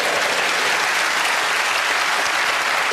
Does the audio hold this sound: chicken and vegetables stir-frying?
no